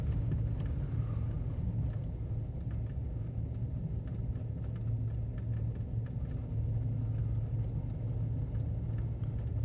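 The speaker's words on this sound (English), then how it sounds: "I'm just idling down a dirt road." A vehicle idles slowly along a muddy dirt road, its engine a steady low rumble that stays constant throughout with faint rattles and bumps on top.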